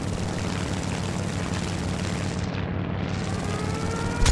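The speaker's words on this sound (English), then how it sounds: "Right, float plane's coming out." A propeller floatplane engine drones steadily in the War Thunder combat flight game, a dense, continuous roar filling the whole stretch at even loudness, with no voice over it.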